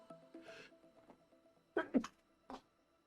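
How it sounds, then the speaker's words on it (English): One close, sharp sneeze bursts out in a quiet room during an online card game session. A few softer mouth and breath sounds come before it, and a short exhale follows. "I had to sneeze there."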